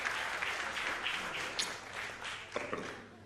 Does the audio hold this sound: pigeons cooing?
no